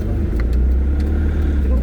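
A car passes close by on a road with a steady low engine rumble and rushing noise throughout, while people talk over it.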